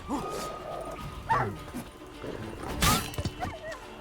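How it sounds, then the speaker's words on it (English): Wild dog in The Witcher 3 video game, giving a few sharp barks and yips mid-distance over ambient game sounds and faint hoofbeats, with a louder burst near the end. "That's a wild dog right there."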